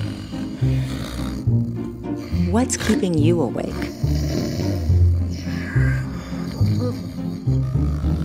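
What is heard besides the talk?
person snoring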